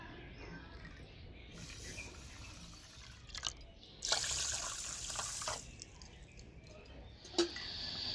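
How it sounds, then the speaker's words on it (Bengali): Water pours into a kitchen pot over sugar for a syrup, a steady, soft trickle that swells into a fuller splashing stream midway, with brief clinks of the bowl, heard close and alone. "আর দিয়ে দেবো ওই বাটিরই 3 বাটি জল।"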